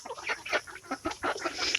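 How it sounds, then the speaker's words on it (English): Hens and two roosters cluck in short, repeated bursts through a quiet farmyard morning, close and moderately loud with a steady rhythm of calls. "Those are our hens and 2 roosters."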